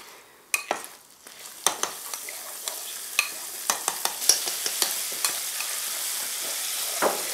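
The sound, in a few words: butter poured into hot caramel, sizzling, for mendiants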